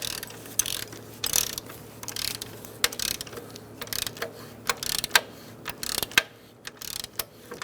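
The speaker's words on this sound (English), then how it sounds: "now you can snug up this bolt" A socket ratchet snugging a bolt on the alternator of a 2000-2007 Ford Taurus 3.0L V6 gives quiet metallic clicking in short irregular bursts of several ticks each, close by, with no talk.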